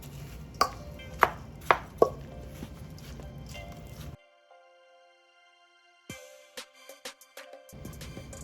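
Wet meatball mixture folded and squished by hand in a bowl for spaghetti and meatballs, with a few sharp slaps early on, then a quiet gap before more soft squelching handling sounds.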